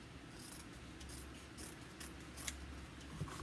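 Scissors cut through dryer sheets in a quiet room, making faint, soft snipping and rustling sounds that repeat steadily against a low background hiss.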